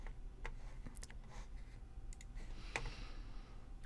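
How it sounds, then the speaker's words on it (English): A faint mouse click on an on-screen button, with a few soft, sparse clicks over a quiet background hum. "first click the little button to open it in StatCrunch"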